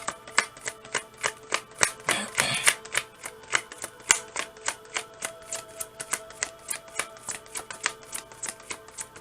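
Tarot cards riffled and tapped in a steady rapid rhythm of crisp clicks, with a brief louder burst of shuffling partway through, close up with no talking.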